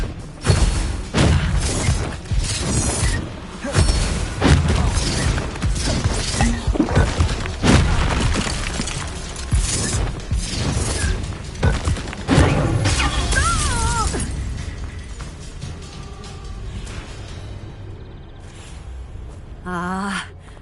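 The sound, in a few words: Confringo and Bombarda spell explosions, Hogwarts Legacy video game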